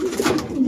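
A pigeon gives a short, soft coo, a brief low murmur heard up close with no talk over it.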